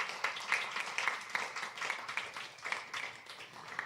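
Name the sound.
audience applause at a concert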